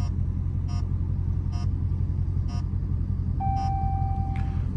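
A catless Dodge Scat Pack in sport mode with traction control off: a deep, steady engine rumble close by while driving, overlaid by a run of evenly spaced electronic chime beeps and one longer tone.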